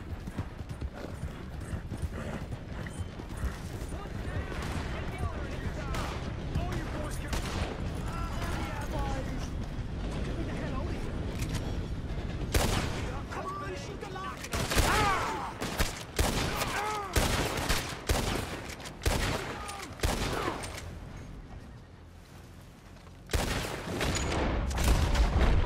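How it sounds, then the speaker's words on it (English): Video game gunfire rings out in bursts of sharp shots, some in rapid clusters, over the steady clip-clop of a ridden horse. Someone talks over the action. "Those gunshots are back."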